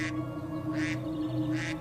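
A black duck in a cartoon gives three short, bright quacks, evenly spaced over a steady music bed.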